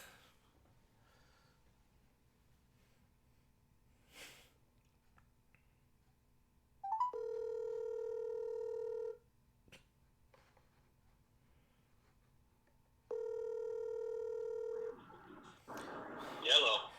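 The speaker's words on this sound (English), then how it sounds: "Hold on, I want to make a phone call." A phone call is placed and two long, steady ringback tones sound several seconds apart over near silence, followed by faint noise at the end.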